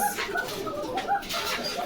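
Soft, steady pigeon cooing close by, continuous and low, with faint rustling behind it.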